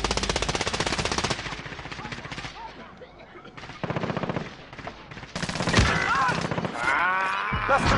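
Rapid automatic gunfire in a Call of Duty match, loud bursts of machine-gun fire coming in waves with short gaps, heavy and close, with brief voices and other game noise between volleys.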